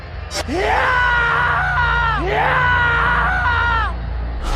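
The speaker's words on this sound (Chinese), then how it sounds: "为什么有人惨叫呢？" A person screams twice in long, rising-then-falling shrieks, loud and close, with a low steady hum underneath.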